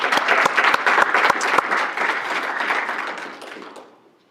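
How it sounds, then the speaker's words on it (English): Audience applause at an annual awards and installation ceremony, dense steady clapping from a sizable crowd that holds for about three seconds and then fades out. "So one last big round of applause for all our office winners and contributions this year for our PAC."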